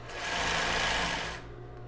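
A sewing machine stitching a seam on a pair of panties runs in one short steady burst, whirring close and loud, then winds down at the end with no talk.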